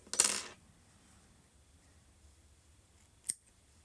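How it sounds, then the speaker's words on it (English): Scissors snip yarn tails on a crocheted modern granny square: one sharp, close metallic cut at the start, then near silence and a second short snip a few seconds later. "Now let's trim everything down."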